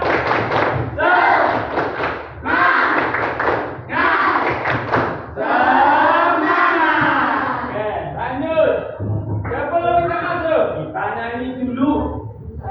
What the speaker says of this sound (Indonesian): kita tepuk dulu ya pemanasan. Tepuk semangat.